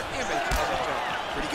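Punches landing in a fight in the video game EA Sports UFC 4: a couple of sharp, heavy thuds about a second apart, the second one louder, over steady game noise with a voice talking.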